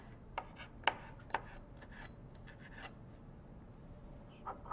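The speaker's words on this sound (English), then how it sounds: "we'll just chop up a little bit of a few pieces of shrimp here" Knife chopping shrimp on a cutting board, heard as a few faint, sharp taps spaced irregularly over quiet scraping and rubbing.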